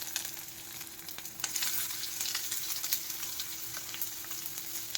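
Mustard seeds, curry leaves and chopped onion sizzle and crackle steadily in hot oil in a pan, with sharp pops scattered over a continuous bright hiss and no talking.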